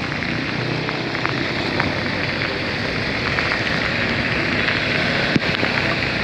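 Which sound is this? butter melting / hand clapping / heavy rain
heavy rain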